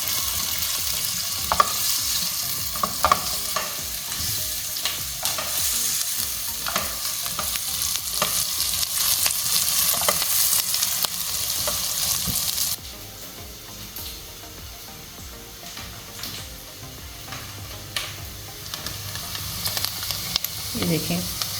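Spiced potato samosa filling with onions frying in a pan, a continuous sizzle and hiss with repeated stirring scrapes, loud at first and then quieter.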